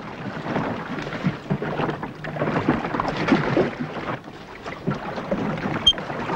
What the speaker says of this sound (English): Keep rowing.